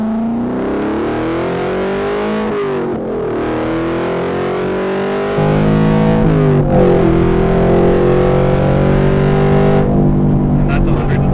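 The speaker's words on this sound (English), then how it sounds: "That way you guys can see the acceleration of this car." A 2017 Chevrolet Camaro SS with a V8 engine accelerates hard, its loud engine note climbing in pitch through several gear changes, growing louder after a shift; heard from inside the car.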